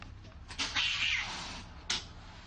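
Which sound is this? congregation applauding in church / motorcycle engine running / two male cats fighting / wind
two male cats fighting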